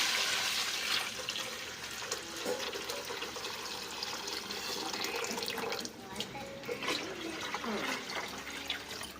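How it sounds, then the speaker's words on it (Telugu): Leftover mutton-boiling water pours steadily into a cooking pot for biryani, a continuous splashing, gushing stream lasting several seconds, fairly loud and close. "ఇందాక మనం మటన్ ఉడికించుకున్న వాటర్ ఉన్నాయి కదా వేసేసుకోవాలి"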